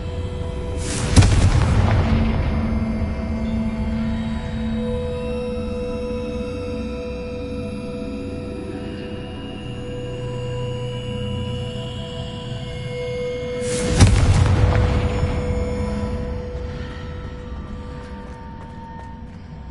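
Confringo fire spell blasts in the video game Hogwarts Legacy: two loud, booming explosions about thirteen seconds apart, each a sharp burst that rolls off into a long rumbling decay over a sustained droning game soundscape.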